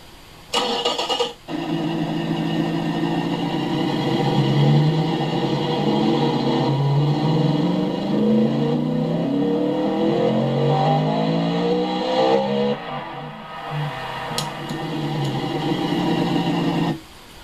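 A simulated 2017 Ford Mustang GT V8 in the game Automation, with straight pipes on one muffler and a baffle on the other, starts and idles with a rough, throaty rumble, then revs a few times before cutting off abruptly.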